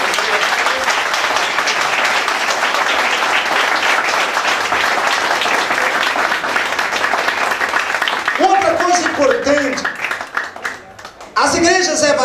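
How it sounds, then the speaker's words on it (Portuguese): A congregation at a church baptism claps loudly and steadily for several seconds, then the applause thins as voices and a speaker come through at the end. "Será que você pode aplaudir o seu Jesus?"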